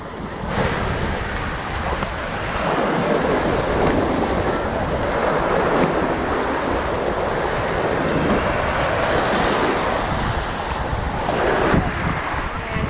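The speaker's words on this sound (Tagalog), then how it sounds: "Mahangin." Strong wind and breaking surf on Boracay beach roar steadily and close, with gusts buffeting the microphone throughout and no clear talk over it.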